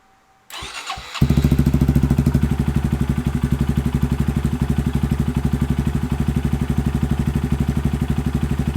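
A 2025 Honda Grom motorcycle engine with a new DHM Stage 2 cam cranks briefly, catches, and settles into a loud, rapid, lumpy rhythmic idle close by.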